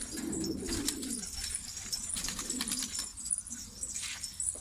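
Şanlıurfa fancy pigeons coo in a soft, rolling, low murmur up close, while other birds chirp faintly in the background.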